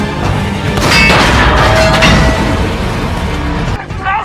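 Battle scene from the war film Fury: tank gunfire and a German Tiger tank blowing up, a loud, sustained roar of blasts and crashing impacts close by.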